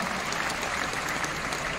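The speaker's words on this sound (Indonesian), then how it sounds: "Tepuk tangan yang meriah untuk Bro Kaisang Pangarep" A crowd at a PSI party and Jokowi volunteers consolidation rally applauds chairman Kaesang Pangarep, a dense, even wash of clapping that holds steady throughout.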